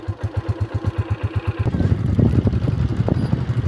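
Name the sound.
motorcycle ride to school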